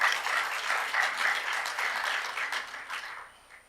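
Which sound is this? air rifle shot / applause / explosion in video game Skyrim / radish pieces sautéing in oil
applause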